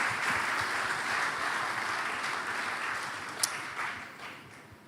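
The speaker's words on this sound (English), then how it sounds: "Another round of applause, please, for such a wonderful legacy." An awards ceremony audience applauding in a broad, even wash of clapping that stays fairly steady and moderately distant, with a faint slow taper toward the end.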